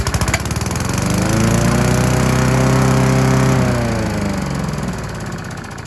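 A small four-stroke lawn mower engine sputters to life after a pull and settles into a loud, steady running drone close by.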